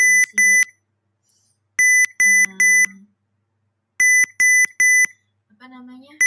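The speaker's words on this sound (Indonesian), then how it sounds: "Nah, ini namanya buzzer." A small electronic buzzer on an IoT prototype beeps in sharp, evenly spaced groups of two and three loud tones, close up, with short pauses between groups and a voice speaking briefly between them.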